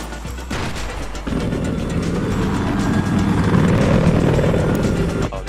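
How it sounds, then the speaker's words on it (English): A helicopter in a first-person shooter game drones loudly and steadily for several seconds with a dense low rumble and rotor wash, after a sharp burst of gunfire at the start. "Oh, the chopper's up."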